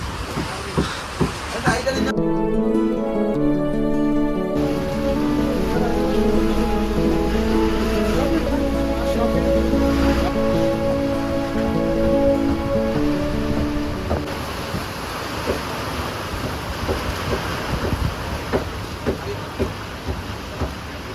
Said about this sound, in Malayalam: അയ്യോ മഴ പെയ്തു മഴ പെയ്തു